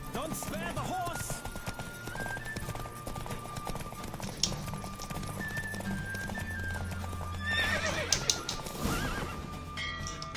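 Horse galloping during a race in the video game The Witcher 3, rhythmic hoofbeats with repeated neighs and whinnies over game music and background sounds.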